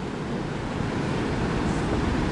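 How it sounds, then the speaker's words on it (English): Ocean waves surge through a rocky sea tunnel at the Sutro Baths ruins in San Francisco, a steady, dense roar of rushing water and wind with no pauses and no voices. "There's a neat tunnel in there, Robin, where there's waves in there."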